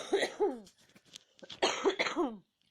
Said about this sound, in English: still coughing, I'm sorry